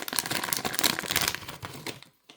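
Crinkly plastic rustling and crackling up close for about two seconds, with irregular bursts of crackle, ending abruptly in near silence.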